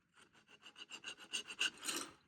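A hand file rasps back and forth across the rods of a Tyco Mantua Alco C-430 model locomotive, about a dozen short, regular strokes close up that grow slightly louder toward the end.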